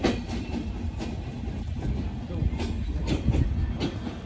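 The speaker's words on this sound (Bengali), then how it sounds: "Bye bye train. না না, স্পিড তো আরো বাড়বে বাবা।" A train running along a railway line, with steady rumbling and intermittent rhythmic clicks of the wheels on the rails that hold at a fairly even level throughout, while a person speaks faintly over it.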